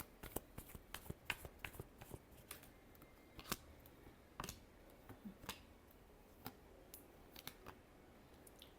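Tarot cards being shuffled up close, a steady run of crisp riffling clicks and soft slaps with brief pauses, alone without talk.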